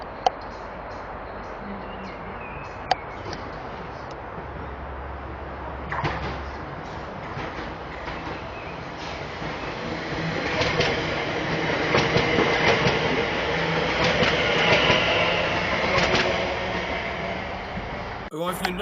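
A West Midlands Railway passenger train on the Rugeley Trent Valley to Birmingham International service passes through Bescot Stadium station, rumbling and clattering over rail joints, swelling louder as it goes by, with a loudspeaker announcement partly under it.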